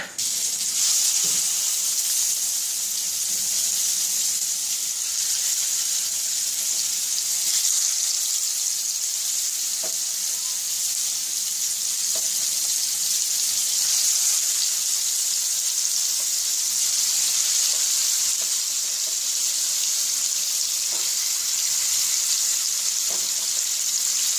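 Steady, gentle sizzling of marinated chicken frying in a pan on a low flame, a soft continuous hiss with occasional faint pops and stirring clicks.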